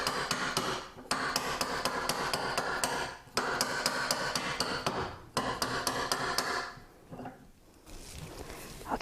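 Cross peen hammer forging a metal jewelry ring on a mandrel: rapid, loud, ringing metallic blows in long bursts, broken by short pauses, with no talking.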